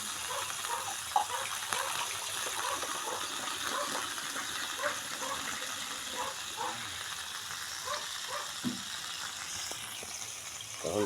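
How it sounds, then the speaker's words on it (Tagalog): A little water poured into a pot of simmering pork adobo with soy sauce, a steady gushing splash and bubbling sizzle that runs continuously and close, with small clatters. "Siyempre ilalagyan natin siya ng kaunting tubig."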